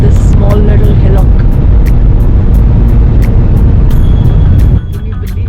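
A Tata Altroz iCNG hatchback climbs a small hillock under a loud, steady engine drone with a faint rhythmic ticking. A person talks over it throughout, and the engine noise drops abruptly near the end.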